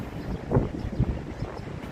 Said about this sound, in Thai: ลมแรงดีดีมากเลยครับ